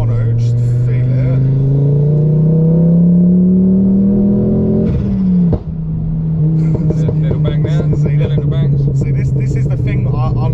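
A Ford Focus ST with a 2.5 litre five-cylinder engine accelerates loudly, its rising drone climbing steadily before a shift, then pulling again under overlapping talk inside the car.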